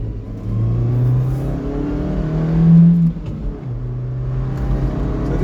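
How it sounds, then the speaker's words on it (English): A Daihatsu Copen 1.3 16v small sports car engine hums and revs, rising to a louder rev burst midway before dropping back to a steady drone. "So this little car is sounding nice, for being just a K car derivative."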